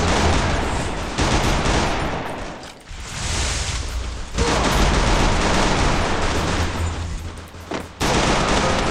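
Rapid gunfire from the Garena Free Fire battle royale game, loud and nearly continuous in dense bursts, with two brief lulls around the third and eighth seconds.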